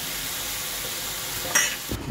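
Boneless chicken pieces being added to a pan with very little oil for biryani give off a soft, steady sizzle, with a brief clatter and a flare of hissing near the end.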